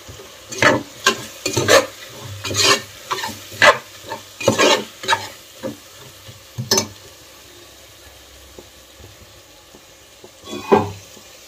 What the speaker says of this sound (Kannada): ಮತ್ತು ಗರಂ ಮಸಾಲ ಈ ಸ್ಪೈಸಿ ಪೌಡರ್ಸ್ ಎಲ್ಲ ಆಯಿಲಲ್ಲಿ ಚೆನ್ನಾಗಿ ಫ್ರೈ ಆಗಬೇಕು